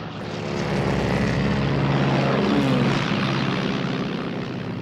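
Propeller-driven carrier aircraft flying past, a loud sustained engine drone and airscrew roar that swells slightly near the middle and holds steady, alone without voices.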